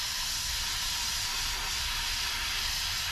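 Steady, close hiss of a spray can or airbrush laying paint onto a paper card model of a Me-410 aircraft, continuous and without talk.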